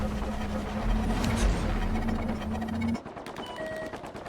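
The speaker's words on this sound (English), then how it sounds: "Oh, I'm hearing gunfire as well." Rapid automatic gunfire in the space game Star Citizen, a continuous rattling burst over a droning ship hum that cuts off abruptly, followed by quieter repeated shots and faint tones.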